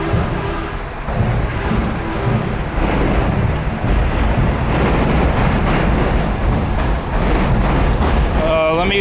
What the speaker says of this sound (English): let me wait for this train to